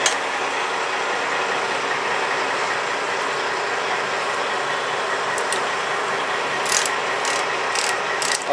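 A Snap-on ratcheting hand tool turns steadily on a motorcycle brake or clutch lever, a dense, continuous, close-up clicking that lasts throughout, with a few sharper ticks near the end and no speech.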